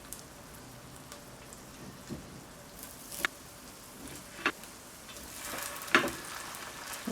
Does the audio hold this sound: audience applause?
no